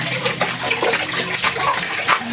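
Water runs continuously from a tap, a steady loud gushing and splashing with no breaks, close by and alone.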